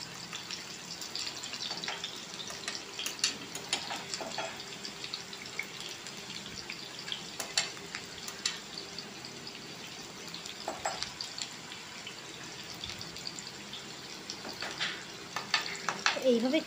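Potatoes fry in oil in a pot for a masoor dal and parboiled rice khichuri, a steady close sizzle broken by occasional scraping stirs and clinks of the spoon.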